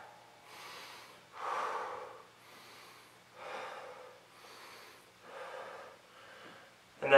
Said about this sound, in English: it's just exhaling back, inhaling forward